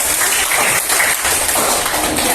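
Classroom applause during a mathematics lesson: a short burst of many hands clapping together, steady and fairly loud for about two seconds, with no talk over it.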